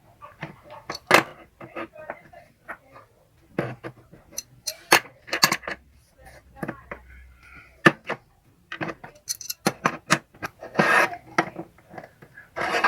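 Loosening the nut on the knee-lifter rod of a sewing machine gives a close, irregular run of sharp metallic clicks and short scraping rasps, with quiet gaps between them.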